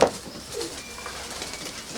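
Pigeons of a rare breed kept in Kremenchuk, Ukraine, coo softly at a distance against a steady, hissy outdoor background.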